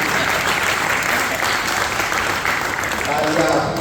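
Sustained audience applause at a comedy poetry show with a South Indian poet, steady and dense throughout, with a voice starting to speak faintly near the end.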